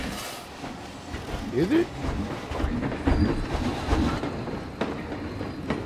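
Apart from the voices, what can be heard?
park train passing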